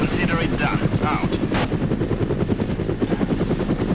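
A military helicopter in the video game ArmA whirs and thuds steadily through the whole stretch while radio-style voices talk over it and scattered gunfire bursts cut in.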